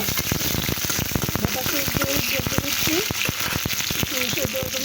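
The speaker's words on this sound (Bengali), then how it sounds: "তো আমি কিছু কাঁচামরিচও ভেজে নেব।" Green chilies frying in hot oil in a wok, a steady dense sizzle with crackling pops throughout, close and fairly loud, while a voice talks faintly over it.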